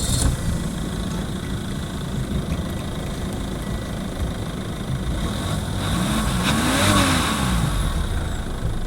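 A Chevrolet Captiva diesel SUV accelerates with a steady, loud engine drone that builds slightly toward the end, heard without any talking.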